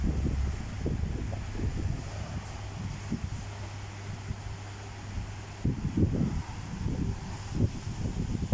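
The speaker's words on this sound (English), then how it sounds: "There's a strong wind." Strong wind gusting during a New Year's rain in the UAE, buffeting the microphone with low rumbling bursts and rustling plants, steady and close throughout with no voices.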